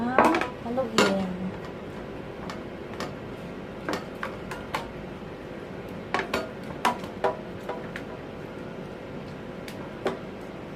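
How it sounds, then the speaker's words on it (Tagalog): Papaya pickle being stirred in a bowl, scattered light clinks and taps of a utensil against the dish at an uneven pace, with a louder clattering burst at the start and a low background hum. "Haluin natin ng haluin."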